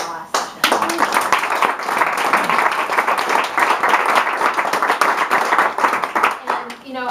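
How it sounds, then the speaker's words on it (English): An audience claps warmly at a MassEquality event, a sustained round of applause that rises quickly and holds steady, with voices briefly audible at the edges. "I appreciate the applause"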